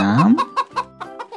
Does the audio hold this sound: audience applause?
no